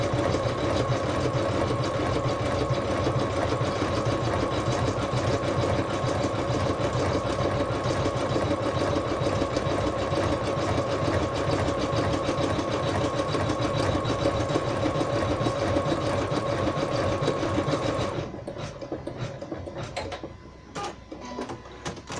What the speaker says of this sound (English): now I can press start and off it will go and it will do the blanket stitch